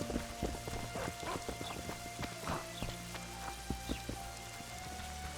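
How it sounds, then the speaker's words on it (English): Rain falls in The Witcher 2: Assassins of Kings, a faint steady patter with scattered drops and soft clopping hooves over a low ambient hum, no one speaking. "It's really raining now."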